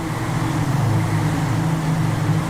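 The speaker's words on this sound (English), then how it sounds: "Listen to those diesel engines come flying through here." Diesel-powered VW Jetta race cars in a sim racing game at Watkins Glen, a loud, steady engine drone as the pack passes close by, with no talking over it.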